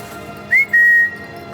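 A person whistles a short two-note call, a brief rising chirp followed by a longer steady tone, loud and alone against a quiet background.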